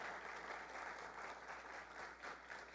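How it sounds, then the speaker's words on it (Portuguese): Steady applause from a church congregation during a sermon, an even wash of clapping that holds at moderate level throughout. "Pode aplaudir o Senhor."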